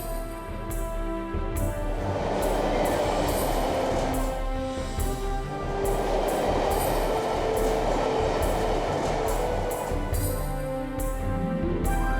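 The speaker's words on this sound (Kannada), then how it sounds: "ಎಂತ ಮೆಟ್ರೋ ಟ್ರೈನ್ ಗಾಳಿಯಲ್ಲಿ ನಡೆಯುತ್ತೆ" A metro train runs steadily with a continuous rushing rumble and periodic rhythmic clacks, close and loud, no voices.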